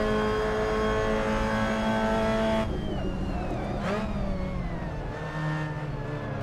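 A Mazda race car engine in the racing game Assetto Corsa during an online race, loud and continuous with sustained high revs, then a gear change and a slightly lower, steady engine drone.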